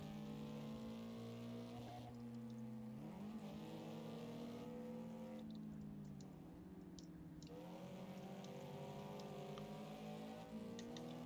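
A race car in Project Cars 2 roars continuously with a high engine whine, pitch rising and dipping through gear changes and corners, steady and close with no talk.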